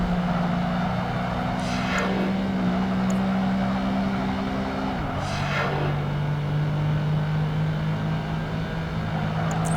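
A racing car's engine held at full throttle in Project Gotham Racing 2 drones loud and steady, with a couple of quick gear-change dips and pitch shifts; no talking.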